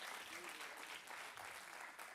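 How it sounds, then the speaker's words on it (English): Applause rises from a business roadshow audience in Cape Town, a dense, steady patter of clapping held at moderate distance and filling the whole short stretch without a break. "Yeah, it deserves a round of applause."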